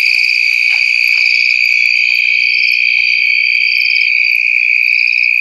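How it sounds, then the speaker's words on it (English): Insects trill loudly and continuously through a wildlife webcam at a river, a steady high-pitched chorus with pulsing buzzy calls, while faint scattered bird chirps sit in the background. "You can hear all sorts of insects and birds in the background."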